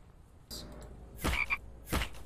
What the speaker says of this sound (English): I heard a frog.